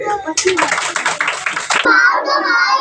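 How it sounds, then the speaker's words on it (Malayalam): Children clap their hands in a quick burst of rapid, close claps lasting about a second and a half, with kids' voices heard around it. "ഒന്ന് കൈയടിച്ചേ."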